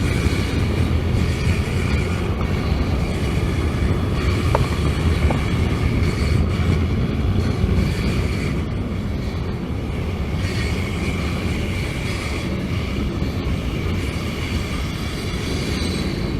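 A CSX freight train rumbles steadily past on the track, a continuous heavy roar of wheels and cars with faint squeals rising over it.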